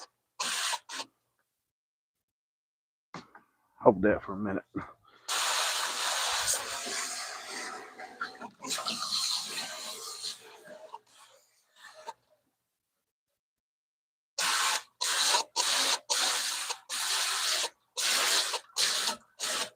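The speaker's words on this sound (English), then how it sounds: "I'll go ahead and spray this fish off." A water hose sprays a fish being cleaned in loud, hissing bursts, first a long spray of several seconds, then a run of short regular blasts, with a brief spoken line between them.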